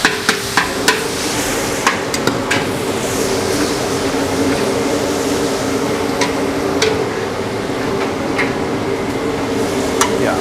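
Garlic sautés in a hot pan as the first step of a stir-fried vegetable and meatball dish. A loud, steady sizzle runs throughout, broken by scattered sharp clicks and taps from a utensil against the pan.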